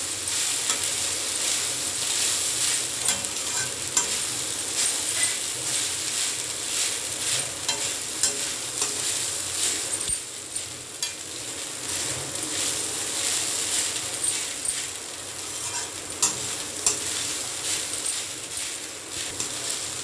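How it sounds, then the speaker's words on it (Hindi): Poha being stirred in a frying pan, a soft continuous sizzle with repeated scraping and tapping of the spoon against the pan, close and steady with no talking. "पोहा डाल के हम इसको अच्छे से मिक्स करेंगे"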